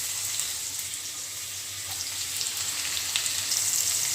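Fish curry ingredients frying in a pan until reddish, a soft, steady sizzle and crackle at moderate distance, with no one talking.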